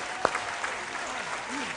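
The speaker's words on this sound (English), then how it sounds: "Ladies and gentlemen, a round of applause for them." Audience applause for school quiz contestants at the end of a competition round, a steady broadband clatter of clapping that holds evenly throughout the short stretch, with faint voices mixed underneath.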